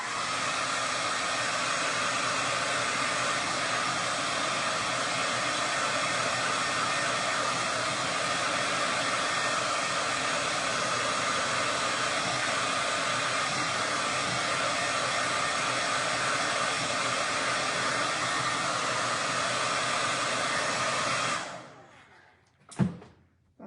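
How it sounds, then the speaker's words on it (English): A hair dryer drying decoupage glue on an Easter bunny craft: a loud, steady blowing roar for about twenty seconds, then it switches off and a brief clunk follows. "We're gonna blow dry and get our glue nice and dry."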